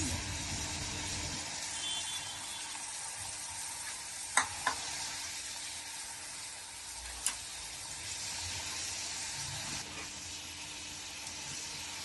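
Malabar spinach with green chillies stirred as it fries in a pan, a steady hissing sizzle with a few sharp spatula clicks against the pan, close and unbroken by speech.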